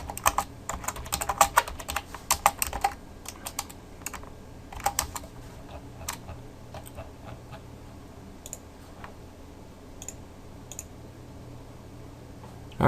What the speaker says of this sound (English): So we'll just have to type it in manually.